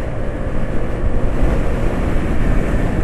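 A motorcycle engine idling with a steady mechanical clatter from its timing chain, heard close and continuous, a dense rattling drone with no pauses.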